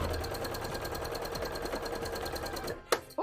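A sewing machine runs steadily at speed while cosplay pieces are stitched, producing a continuous close mechanical whir. The whir stops abruptly and is followed by a couple of clunks as the bobbin runs out.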